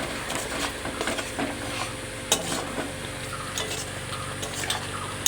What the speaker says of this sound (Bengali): দেখো হাই ফ্লেমেই দিয়া, ঠিক আছে। এই যে রান্না করছি